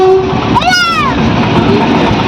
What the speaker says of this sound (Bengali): মালগাড়ি গেল।